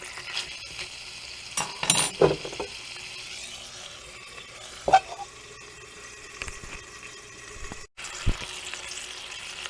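Pork chops fry in a little oil in a pan on a Sterno folding stove, giving a soft, faint sizzle marked by occasional clinks and scrapes of utensils, close but quiet with no talking.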